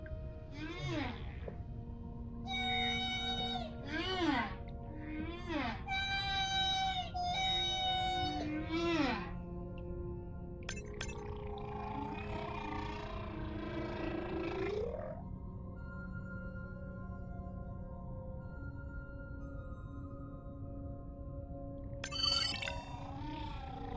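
Whale social vocalizations underwater, a series of rising and falling moans, squeals and buzzing calls spread across the span, some loud and close, others fainter, with pauses between bursts.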